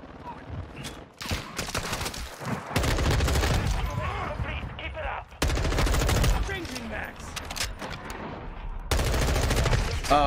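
Repeated bursts of automatic gunfire in the Modern Warfare 2 Beta multiplayer, loud and close, broken by short pauses, with players talking and reacting over the shooting.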